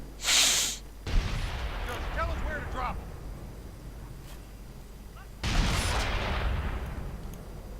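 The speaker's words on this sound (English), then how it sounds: "Howitzer firing away." Howitzer artillery fires in a real-time strategy battle game: two loud booming blasts roll out with long rumbling decay, and a commentator talks between them.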